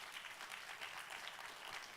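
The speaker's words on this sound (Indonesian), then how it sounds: "Oh, tepuk tangan jangan separuh-separuh." Steady applause from a church congregation during a sermon, a dense, even wash of clapping that holds for two seconds with no voices on top.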